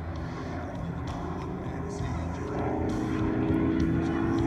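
A Douglas Skyraider propeller aircraft flies past at an air show demonstration, a steady rumbling engine drone that swells slightly louder, with a faint background voice.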